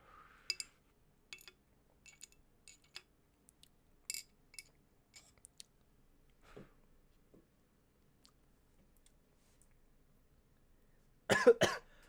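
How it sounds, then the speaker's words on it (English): Several short, soft coughs and throat-clearing sounds, close to the microphone in a quiet room, scattered through the stretch, with a louder burst of coughing near the end. "Sorry that I just coughed in your ear."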